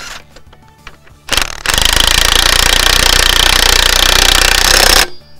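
A power tool rattles loudly and continuously for about three and a half seconds, tightening the stub pin on an AL-KO trailer axle up to torque, ending abruptly after a few faint clicks and handling noises.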